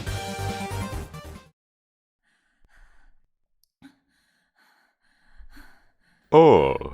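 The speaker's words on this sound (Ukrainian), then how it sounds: "чому у тебе задишка?" A voice actor performs breathless, out-of-breath gasping for an animated character: a voiced passage at first, faint breaths after a pause, then a loud, sharp gasping breath at the end.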